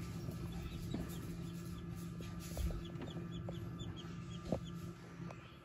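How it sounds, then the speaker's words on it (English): Newly hatched chicks peeping in a house, faint high chirps scattered over a steady background hum, with occasional soft clucking-like sounds and no talk. "We just came in for lunch and heard the peeping."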